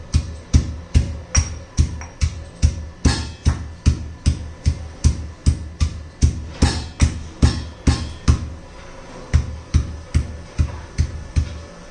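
Cluster beans are pounded coarsely in a mortar and pestle for thecha, a steady run of heavy, evenly spaced thuds, about two per second, close and loud with no talk.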